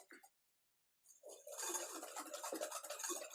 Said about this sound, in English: I'm going to put in my 2 egg yolks. Just give them a stir.